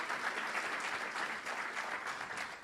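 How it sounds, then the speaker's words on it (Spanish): A church congregation bursts into loud, continuous applause, dense and sustained with no pauses, sounding close and filling the room. "¿Cuánto le da un aplauso fuerte a Cristo?"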